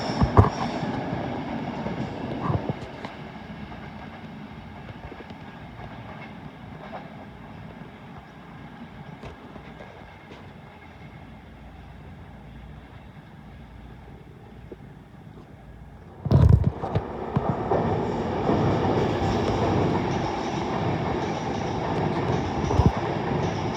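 A Class 390 Pendolino electric train rolls past at Primrose Hill, a steady rail rumble and wheel noise that swells sharply near the end as it draws close and loud, with no voices.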